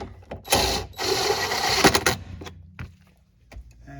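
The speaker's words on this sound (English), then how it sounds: "get this 12mm head bolt started. Snug it down." Ratchet snugging down a 12mm head bolt on the 12-volt auxiliary battery of a 2023-2025 Toyota Prius hybrid, heard as a close burst of quick clicking strokes followed by a few sparse, fainter clicks with no talking.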